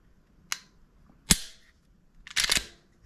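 Sharp mechanical clicks close up from a Ruger RXM pistol trigger resetting: a single click, another a moment later, then a quick double click, with quiet between them.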